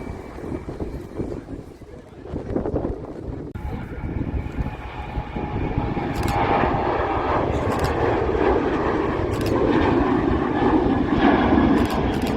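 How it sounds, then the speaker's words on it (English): A Boeing 737 taking off at Manchester Airport, a broad engine roar that builds and holds steady and loud, with a tearing rumble and wind buffeting. "So just taken off. It's a Boeing 737."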